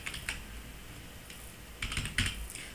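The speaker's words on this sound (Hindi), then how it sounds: "तो जैसे ही आप अपना मेल आईडी एंटर करेंगे" Keys clatter on a computer keyboard as an email ID is typed, in two short bursts of quick clicks separated by a pause, close and fairly quiet with no voice.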